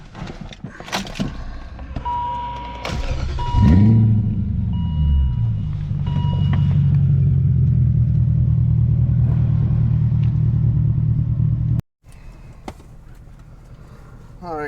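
A car with a straight-pipe, decatted exhaust starts with a loud burst, then settles into a deep, steady rumble that carries on before a brief cut, with a voice talking at the start.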